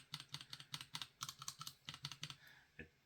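Keys on a keyboard fitted with Gateron G Pro 3.0 switches are typed in a quick, even run of about fifteen close, crisp clacks with a full, deep, thuddy body, then a brief pause and one last press.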